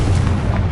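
The Confringo fire spell erupts in Hogwarts Legacy as a brief, loud, low booming blast with a rumbling body, close and filling the whole short moment.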